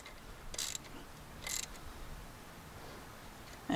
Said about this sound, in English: Now we can put the ratchet on.